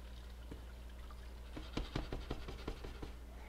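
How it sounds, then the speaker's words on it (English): Water poured from a pitcher into a cooking pot on the stove makes a soft, continuous trickle with splashy patter over a steady low hum, fairly quiet and with no talking. "I'm just going to add some water to this."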